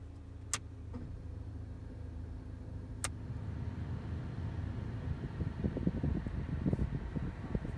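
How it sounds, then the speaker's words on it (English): A Mazda 2 (Demio Skyactiv) air-conditioning system runs after a cabin filter change, giving a steady low fan whoosh with a couple of faint clicks, then rougher, louder rumbling airflow building toward the end. "Close it and test the AC system."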